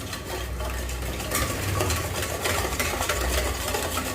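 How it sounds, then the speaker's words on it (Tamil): A sugar, oil and milk mixture for rava cake is beaten, producing a continuous churning, whisking rattle with uneven swells and clicks, moderately loud and close, with no voices. "இப்போ சீனி, எண்ணெய், பால் எல்லாமே நல்லா மிக்ஸ் ஆகி வரணும். அது வரைக்கும் நம்ம இதை பீட் பண்ணி விட்டுறலாம்."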